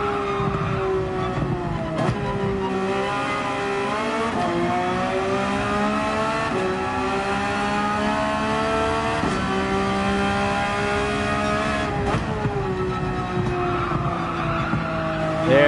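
Race car in Gran Turismo 7 on a hot lap, engine tone rising and falling through gear changes with squealing tires through the corners; loud and continuous, no talking.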